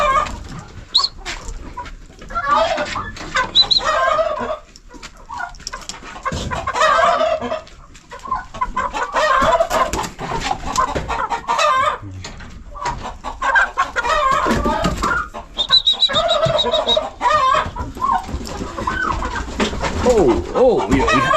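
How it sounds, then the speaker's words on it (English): Chickens on a small off-grid farm in Kenya cluck and call repeatedly over about twenty seconds, close and fairly loud, with other birds and scattered background noise mixed in and voices occasionally present. "there's one chicken here which is usually the most stubborn"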